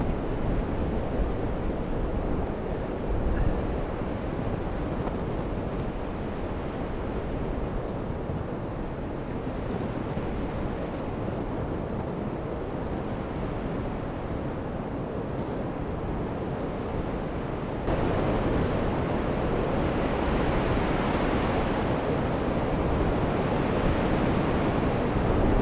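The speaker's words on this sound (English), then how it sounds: "It's super windy. I'm trying my best to shield the mic from the wind." Strong wind blows beside open water, buffeting the microphone in a steady, loud roar with gusty swells and a stronger surge in the later half. No one talks.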